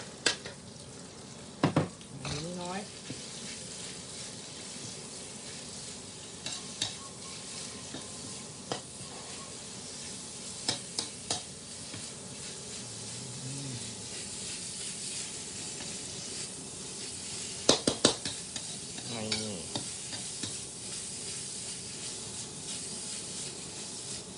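Pork stir-fries in a pan for a traditional Thai chili dip, a steady, moderate sizzle running throughout with occasional spatula scrapes and knocks against the pan.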